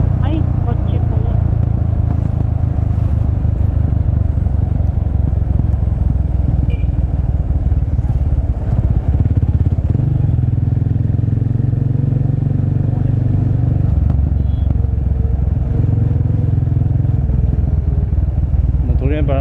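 Engine of a big bike, something like a CX400, passes on a city street at night in Calbayog City, a steady low motor rumble building and lingering amid traffic noise while people talk over it.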